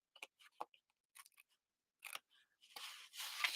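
Scissors trimming card paper for a handmade Valentine card, a series of close, quiet snips and rustles, ending in a louder scraping swish of paper.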